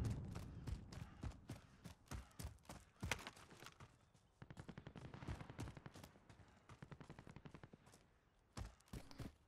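Gunfire in Call of Duty Warzone, out in open wilderness, comes as dense, fairly faint bursts of rapid cracks spread through the clip, with short pauses between volleys.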